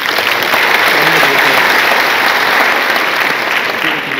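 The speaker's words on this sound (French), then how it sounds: "je vous prie de les applaudir" Loud, sustained applause from a large audience at a diaspora forum honouring the armed forces, a thick unbroken roar of clapping close and full.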